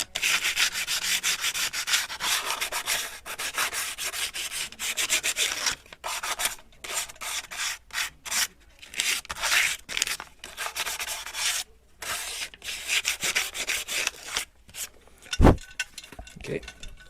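Sandpaper rubs lightly over a part from a Keene 4-inch pump motor by hand, making steady back-and-forth scratchy strokes up close with a few brief pauses.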